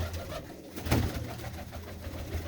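Pigeons kept in a village loft in Moga district, Punjab, coo softly in a low, murmuring rhythm, faint and somewhat distant amid quiet background noise.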